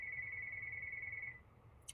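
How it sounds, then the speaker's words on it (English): A telephone rings during a home crochet lesson: one thin, steady electronic tone, fairly faint, lasting just over a second before it stops. "excuse the phone again."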